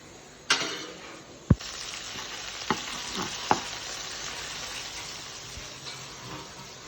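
Food stirred with a spoon in a frying pan, a constant loud sizzle broken by a few sharp metallic clinks and scrapes of the spoon, no voices.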